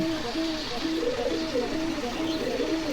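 Pigeons at a pigeon market coo in overlapping, steady rounds of soft throaty calls, carried over a dense, busy background.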